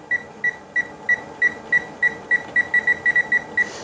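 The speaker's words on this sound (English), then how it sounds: "So now I'm going to go ahead and set that oven to" Oven control panel being set to preheat to 450 degrees, a rapid series of about fifteen short, bright electronic beeps at an uneven pace, clear and close with no talk.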